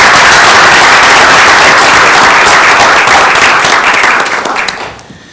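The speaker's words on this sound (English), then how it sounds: "ask for a round of applause" A crowd at a council meeting applauds loudly and steadily for several seconds, then the clapping thins out and fades away near the end.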